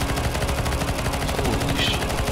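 Rapid automatic gunfire in a CS:GO zombie escape round, shots aimed at a tiny knight boss, sustained dense bursts over a busy game background.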